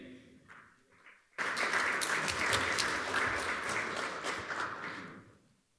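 Audience applause after presentations at a talk, breaking out suddenly after a brief quiet murmur and continuing as dense, fairly close clapping before tapering off.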